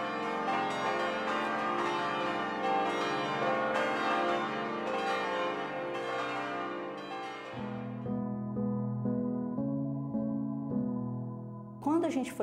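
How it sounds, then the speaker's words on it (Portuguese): Church bells swinging in a festive peal, overlapping bright strikes ringing continuously, with the tones shifting lower partway through and a voice cutting in at the very end. "as horas festivas, os sinos balançando, já é um conjunto de toques"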